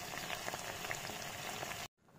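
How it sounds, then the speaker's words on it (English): Tomatoes and cashew nuts frying in a pan give a steady, close sizzle and fine crackling that fills the clip evenly with no voice, then cuts off abruptly just before the end. "Now we will fry these tomatoes and cashew nuts."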